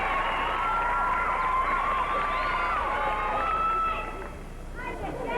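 A crowd in a gymnastics arena at the 1996 Australian Olympic Gymnastics Trials cheers and whistles in a sustained, distant roar that fades toward the end, with voices mixed in.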